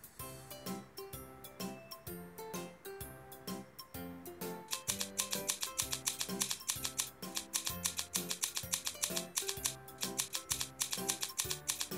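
Crisp, repeated snips of cartoon scissors cutting fabric for a homemade toy in a baby care game, falling in a steady rhythm over bright, looping background music.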